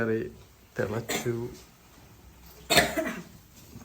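A child coughs a few times at close range in a home, with short harsh bursts separated by pauses.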